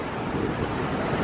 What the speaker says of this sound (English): The waves are a little choppy.